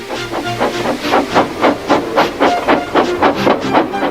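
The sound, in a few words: steam locomotive blowing off steam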